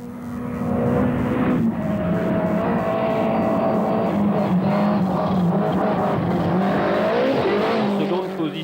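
A Lancia rally car on a 1989 rally stage drives with its engine droning loudly and steadily, the pitch shifting as it goes, under a commentator speaking in French.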